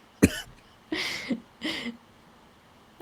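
Three separate coughs, sharp and close, spaced about a second apart with quiet pauses between them.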